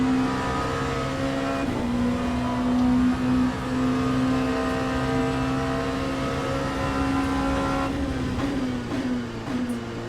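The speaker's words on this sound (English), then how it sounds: "Coming up on a slower class car." A race car engine drones steadily through a multi-class race at Monza's Curva Grande in a racing video game, holding a loud, even pitch with slight shifts as it closes on a slower car.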